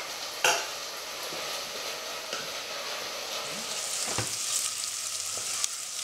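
Onions caramelizing with muscovado sugar in a pan for roast pigeon, a steady close sizzle and bubbling stew with a few sharp stirring clinks and scrapes, no voices.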